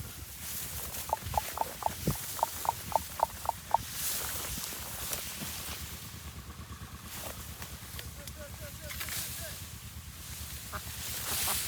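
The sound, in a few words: ducks quacking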